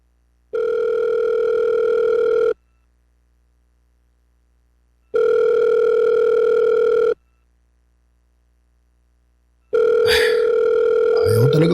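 A telephone call being placed: a steady electronic tone sounds in two-second pulses with long silent gaps, repeating three times, the last one briefly overlapped by faint background noise.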